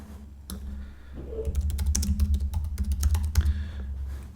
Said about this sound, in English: Very easily, just type in your information.